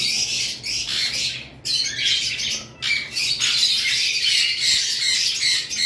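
Green Fischer's opaline lovebirds squawk in a dense, continuous chorus of shrill, raspy calls, loud and close, with brief gaps between bursts and no talking.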